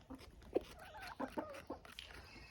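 Backyard hens and a rooster make soft, scattered clucks and short throaty calls at close range, quiet and intermittent.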